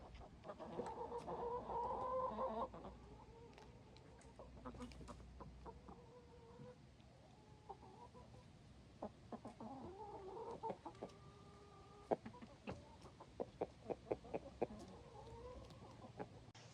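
Rhode Island Red hens cluck softly at a distance on a farm, with scattered short calls and a few sharper clucks among quiet outdoor background.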